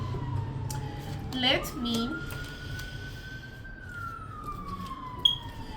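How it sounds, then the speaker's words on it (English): A distant siren wails steadily, its pitch slowly rising then falling, over low background noise with a few faint clicks. "since you hear sirens"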